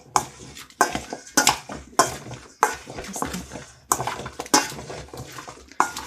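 Repeated clinks and scrapes of a spoon against a bowl, a steady series of sharp metallic taps close by, with no talking.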